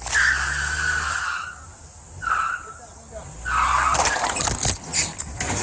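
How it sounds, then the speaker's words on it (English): A truck's tires squeal in several short bursts as it lurches forward into a store front during a police encounter in Mesa, with harsh broadband road noise and some voices mixed in. "Williams put the truck in drive, squealing the tires and hitting the front of the store."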